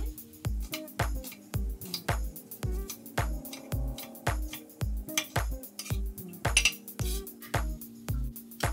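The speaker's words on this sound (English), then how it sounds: "We're going to slice our onion." Knife slicing onion on a cutting board while preparing fish tacos: a steady run of crisp, evenly spaced chops close up, about two per second, with no talk.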